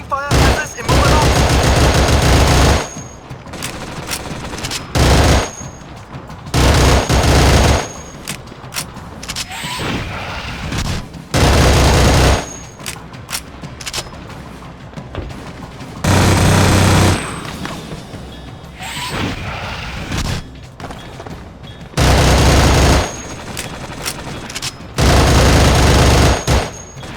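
Heavy bursts of automatic gunfire from the Battlefield 2: Modern Combat video game come in loud, sustained volleys several seconds long, separated by quieter stretches of ambient battle noise and occasional radio voices.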